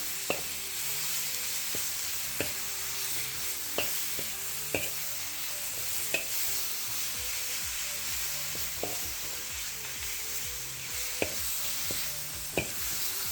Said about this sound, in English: We're going to stir fry that in.